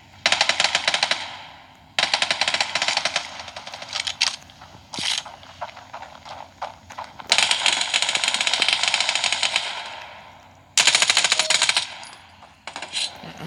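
Rapid automatic gunfire in the Standoff 2 mobile shooter game, several sharp bursts of rattling shots separated by brief pauses, loud and close with mechanical clicks in between.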